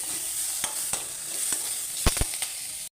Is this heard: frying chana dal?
yes